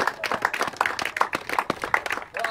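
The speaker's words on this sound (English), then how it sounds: "I think you all deserve a round of applause for" Applause for children's rugby teams at a Farnley Falcons versus Emley Moor sevens presentation: a ragged burst of clapping from a small crowd, steady and fairly close, lasting throughout.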